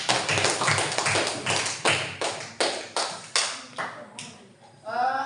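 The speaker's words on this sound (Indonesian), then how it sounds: "Tepuk tangan dulu untuk Sulfiana" A classroom of students claps for a classmate in a steady rhythmic pattern, about a dozen sharp group claps with short gaps, fairly loud and close, with a voice briefly at the end.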